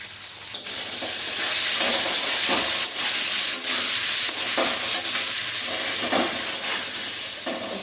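Ridge gourd cooked with poppy seed, salt and turmeric is stirred in a hot pan, producing a continuous hiss and sizzle broken by repeated scraping strokes of the spatula, near and fairly loud, with no one speaking.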